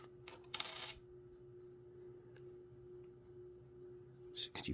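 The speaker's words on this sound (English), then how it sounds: "they still make that sound that we all like, the silver tone, when you drop it" Un Peso silver coins dropped, giving one bright metallic ring with a short shimmering tail, then near silence over a low steady hum, and another faint clink near the end.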